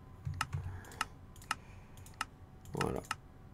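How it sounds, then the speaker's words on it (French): Scattered computer keyboard key clicks, a few at a time with irregular gaps, fairly close and crisp, over a low background rumble with a brief thump. "Désolé si vous entendez le bruit du clavier."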